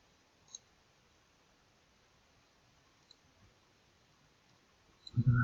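Sparse, faint mouse clicks from rearranging units in a Korean War strategy game about the Han River crossing: single isolated clicks with long quiet gaps, then a louder cluster of knocks at the very end.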